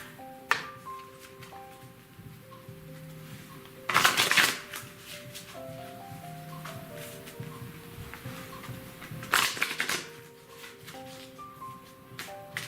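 Archangel Michael oracle cards are shuffled in two loud riffling bursts, near and close, over soft sustained tones of background music with light tapping in between.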